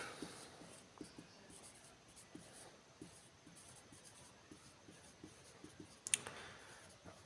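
A pen scratches on paper in a steady run of soft, close strokes, with one sharp click near the end and no talking.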